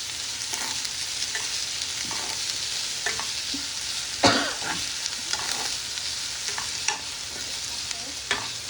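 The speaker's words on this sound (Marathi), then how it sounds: "तो कांदा एकदम मस्त असा गोल्डन ब्राउनिश होईपर्यंत आपल्याला तेलात परतवायचा आहे." Chopped onion sautéing in hot oil for Goan-style clams, a steady close sizzle with a spoon stirring and scraping the pan several times, one louder clack midway, no voices.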